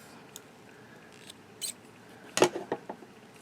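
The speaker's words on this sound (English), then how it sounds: "I'm going to grab my scissors and fasten off." Scissors snipping yarn to fasten off a crochet washcloth, a couple of quiet crisp cuts and small handling clicks in a quiet room.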